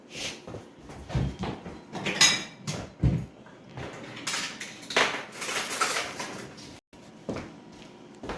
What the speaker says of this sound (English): I'm just going to mix this up with my spatula here